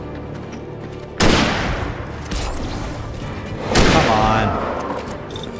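Rifle fire in the game Alan Wake Remastered: two loud, sharp shot bursts a few seconds apart, each trailing into a rumbling decay, with a brief spoken phrase between them.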